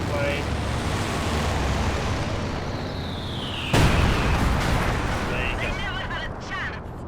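IL-2 bomb strike in the Company of Heroes 2 video game, a descending whistle followed by a sudden loud explosion and rumbling debris amid ongoing battle noise, with brief voices afterward.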